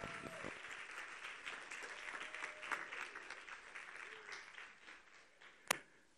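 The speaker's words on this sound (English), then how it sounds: "Let's give them a huge round of applause." Audience applause at a film premiere event, a broad crowd of clapping sustained throughout, fairly faint and distant with a few sharper individual claps and one loud snap near the end.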